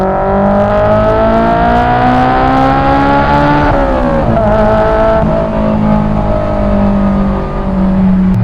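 A Honda S2000 sports car engine runs steadily and loudly while driving on an early morning road, its pitch climbing smoothly through a gear, dropping briefly at a shift, then holding a strong, even drone.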